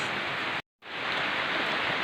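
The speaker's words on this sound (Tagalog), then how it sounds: "Grabe ang ulan dito sa amin guys." Heavy rain pours in a dense, loud, steady hiss, broken by a brief silent gap before resuming at full strength.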